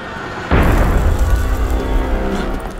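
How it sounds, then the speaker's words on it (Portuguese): A single heavy cannon shot in Assassin's Creed Unity strikes suddenly and rumbles on, loud and close, decaying slowly over a couple of seconds. "Foi um tiro de canhão."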